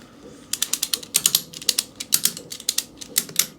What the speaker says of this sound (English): Give that a bit of a ratchet up, and then we'll undo the frame.